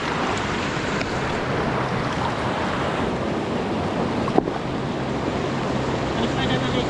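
River water rushes steadily past a riverside picnic spot where stones are set to channel the flow, a continuous broadband wash with a faint thump partway through and no talk.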